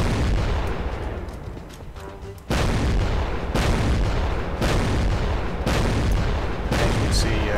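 A powerful weapon in the DakTek video game fires repeatedly in heavy booming blasts, about five evenly spaced shots over a constant loud rumble.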